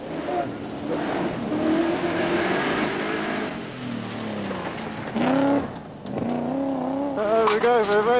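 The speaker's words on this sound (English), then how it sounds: "First away in the truly formidable 300 horsepower V8 Rover, the determined Nigel Mansell" A 300 horsepower V8 Rover rally car at a 1983 rallysprint revs hard and climbs through its gears, a loud engine whine that rises, drops at each shift and rises again.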